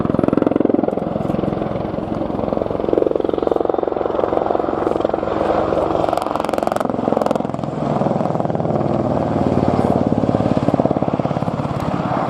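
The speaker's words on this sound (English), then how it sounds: "The Apache is capable of flying with just a single engine should it sustain any damage." Apache attack helicopter in a flying display at the RNAS Yeovilton International Air Day: a loud, continuous rotor and turbine roar that holds steady and close for the whole stretch, with faint speech underneath.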